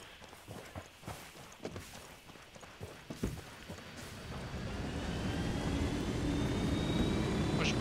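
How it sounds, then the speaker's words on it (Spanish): Helicopter in the military shooter game Ghost Recon, a rising engine and rotor drone that builds steadily from quiet to a loud sustained roar, preceded by scattered clattering steps and thumps. "El helicóptero funciona, creo."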